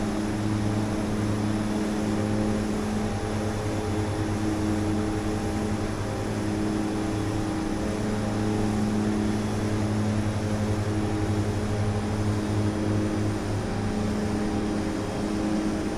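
An aircraft taking off in the Prepar3d flight simulator game, with a steady, loud propeller engine drone and low throbbing hum held evenly throughout, no talk.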